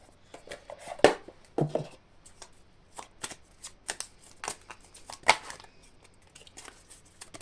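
Small oracle cards are shuffled by hand during a spiritual card reading, giving quick crisp riffling and tapping bursts in an irregular rhythm, close and fairly quiet, with no talking.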